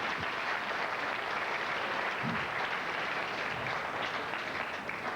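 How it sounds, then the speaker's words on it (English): Sustained audience applause at a 1989 9-ball pool match, a steady broadband clatter filling the hall from start to finish without a break. "This place is going to solidly erupt with applause."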